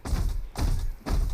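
Heavy footsteps in the mobile battle royale game BGMI land as three deep, booming thuds about half a second apart, loud and close with no talk over them.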